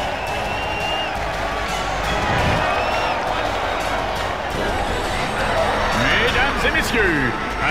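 Arena crowd in the Ratchet and Clank video game, cheering and applauding in a steady dense roar for the whole stretch, rising a little midway and near the end, with a voice talking over it.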